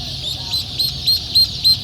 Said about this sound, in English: But you can hear him quacking away here.